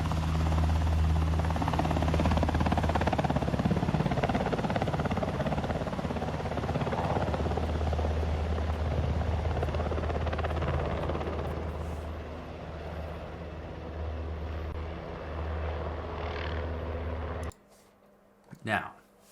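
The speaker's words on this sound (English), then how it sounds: "12 helicopters, all on the White House lawn." Helicopters on the White House lawn, twelve of them, make a loud continuous rotor whir and low thrum for most of the stretch, fading slightly midway before cutting off abruptly near the end.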